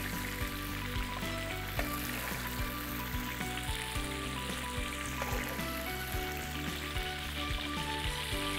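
Tomatoes and peppers laid around kebab in a hot pan, a continuous, even sizzle and crackle of frying heard close up, with faint scattered pops and taps throughout.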